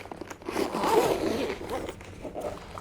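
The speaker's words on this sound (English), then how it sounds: "Pretty solidly done zip." A sturdy zipper on a thermal camera carrying case is pulled open in one continuous, close and fairly loud rasp lasting a few seconds, with no voices.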